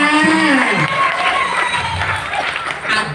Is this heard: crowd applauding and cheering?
yes